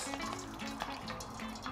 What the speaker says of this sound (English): And drain excess water